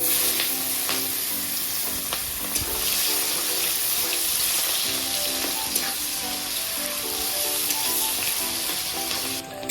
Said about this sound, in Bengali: ফোড়নে দিয়ে দিচ্ছি কালো জিরে পেঁয়াজ কুচি